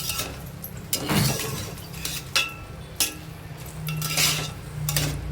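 Rice being stirred in a pot for dried bombil rice: a spoon scrapes and clinks against the metal in several distinct strokes, close and clear, with no talking.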